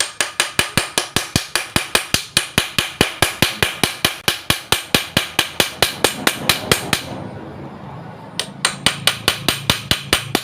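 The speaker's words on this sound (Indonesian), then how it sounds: "Kemudian selanjutnya ini kita ketuk dengan menggunakan obeng." Rapid, steady metallic tapping as a screwdriver is struck against a part of a household jet water pump, dozens of sharp close hits in regular rhythm, with a brief pause before the tapping resumes.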